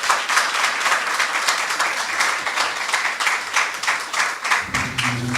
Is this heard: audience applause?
yes